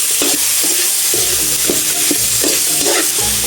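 Pork sizzles and fries in a pot while a utensil stirs it through in repeated scraping strokes, loud and close with steady frying hiss underneath and no talking.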